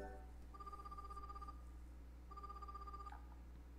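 A phone rings in the video game AKB1/149 Renai Sousenkyo, two quiet electronic trilling tones with a short gap between them, faint and clean over a low steady hum.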